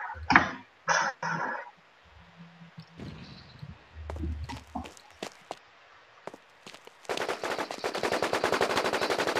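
Gunfire in the video game Warinc Battlezone: a few sharp shots early, scattered bursts and clicks, then a loud sustained rapid automatic burst filling the final seconds, with no talk.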